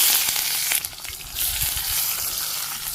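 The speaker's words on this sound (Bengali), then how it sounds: "পেঁয়াজটা ভেজে নিই" Chopped onions sizzle and fry in hot oil seasoned with cumin seeds, a steady close hiss with a brief dip in the middle before the frying noise swells back up, no talking over it.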